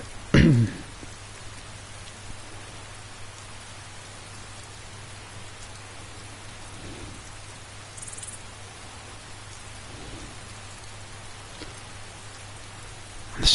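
Continuous rain pours in Skyrim, a constant soft wash of droplets with no voices, opened by one brief, louder thump.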